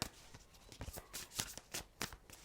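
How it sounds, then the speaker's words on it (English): A deck of oracle cards is shuffled by hand, with quick, crisp riffles and slaps coming in uneven bursts, close and fairly quiet. "2 more shuffles."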